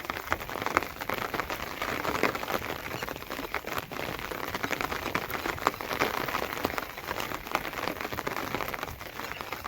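Steady rain patters densely on a surface, a continuous close hiss of drops with no breaks and no voices.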